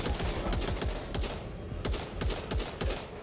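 Rapid bursts of gunfire from the Back 4 Blood video game, with repeated sharp shots cracking in quick succession over dense, loud, continuous combat noise.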